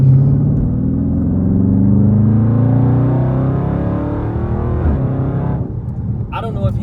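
Dodge Charger Scat Pack V8 in track mode, its engine note rising and falling through rough, jerky gear changes as it accelerates, with someone talking over the steady in-cabin rumble.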